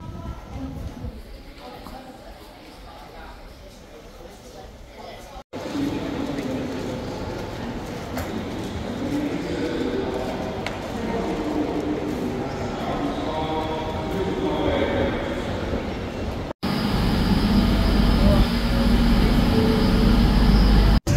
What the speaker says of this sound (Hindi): इस वक्त ट्रेन में बैठ चुके हैं